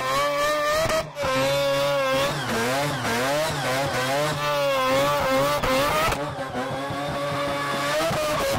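A Mazda RX7 fitted with a four-rotor 787B rotary engine revs hard at high rpm, its loud, close, buzzing howl rising and falling in pitch across repeated throttle blips.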